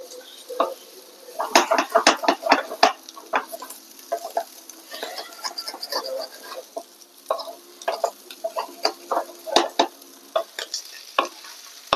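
Mussels frying in a large pan, stirred with a metal spoon: busy clatter and scraping against the pan over a continuous bright sizzle, the strokes coming in irregular bursts up close.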